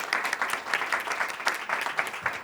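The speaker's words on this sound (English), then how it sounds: "Can we give them a round of applause?" Audience at a Hill briefing on charter school education clapping for a panel, a moderate patter of applause from a modest indoor crowd, fairly close and even throughout.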